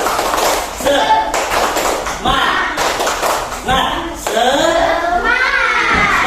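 Schoolchildren in a classroom perform a rhythmic clapping chant, with bursts of claps and taps alternating with children's chanting voices in a patterned beat, loud and close throughout.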